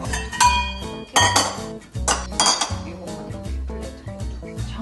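Brass bowls and dishes clinking in a home kitchen, a series of bright metallic knocks and ringing chimes in bursts, close and fairly loud, with occasional soft voices.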